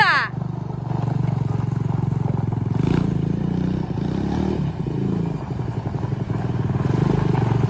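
An ATV engine drones steadily while being ridden, close and continuous with rough clattering and small rises in revs, and a voice briefly at the start.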